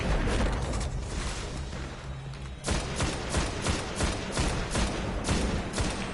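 Scout rifle gunfire in Destiny, a steady series of distinct loud shots spaced about half a second apart after an earlier stretch of dense battle noise, close and prominent.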